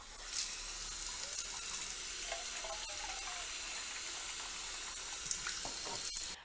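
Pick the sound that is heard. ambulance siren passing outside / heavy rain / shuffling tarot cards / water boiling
water boiling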